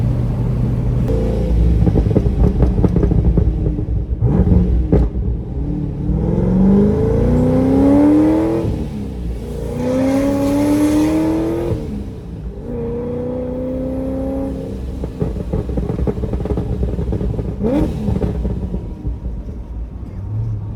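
A 1000-horsepower Corvette engine drives along, its loud, close roar rising and falling in repeated revving sweeps over a constant road rumble.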